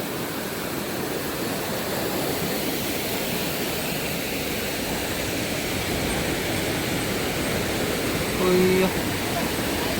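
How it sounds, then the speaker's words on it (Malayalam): The Thekkemala waterfall roars with a loud, steady rush of falling water that stays constant and unbroken from start to finish. "ഭയങ്കര വെള്ളച്ചാട്ടമാണ്"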